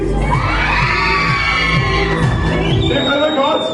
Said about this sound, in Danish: Tøser, kan I skrige højt?